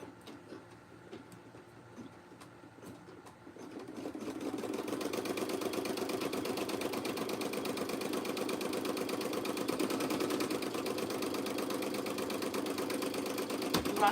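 A sewing machine starts stitching after a few seconds of quiet handling, then runs in a steady, fairly close mechanical whir with a fast rhythmic chatter that continues to the end.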